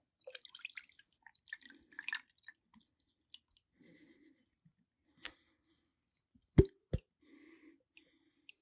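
Buttermilk strained from homemade butter, heard as sparse soft drips and small plops of liquid with a couple of sharper clicks, faint and close in a quiet room.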